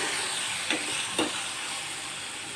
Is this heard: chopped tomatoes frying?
yes